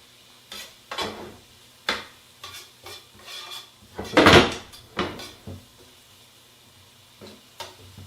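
Onions caramelizing in a pan in a home kitchen, stirred with a utensil: intermittent scraping and clattering strokes over a faint sizzle, one louder scrape near the middle, close and with no talking.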